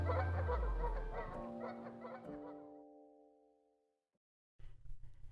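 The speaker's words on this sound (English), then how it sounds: "The geese agree." Geese at a farm in Utah honk close by in a few loud, overlapping calls that trail off into silence, followed by faint background noise.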